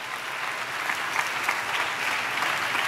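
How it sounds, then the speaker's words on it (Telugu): A church congregation at a Christmas service applauds together, a dense, steady, loud clapping that fills the whole stretch without pause. "ఆ దేవునికి చప్పట్లు కొడుతూ స్తోత్రాలు చెప్దాం."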